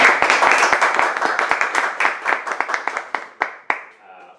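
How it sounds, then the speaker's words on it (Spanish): An audience at an evening talk on the economic effects of taxes claps for an introduced speaker, a dense round of hand claps that thins into scattered, separate claps before fading out. "dejo el uso de la palabra a David Maco, para quien pido un fuerte aplauso."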